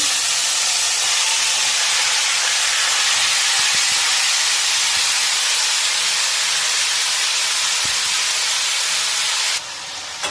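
A steady, loud sizzling hiss of small chuno fish frying in hot oil with cumin in a wok, continuous and unbroken, easing slightly just before the end.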